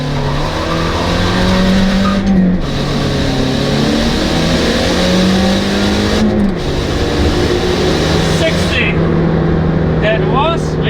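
A Scion tC launches hard from a standstill with heavy wheelspin, its engine roaring loudly as it revs up through the gears, with tires squealing. A person talks over the noise.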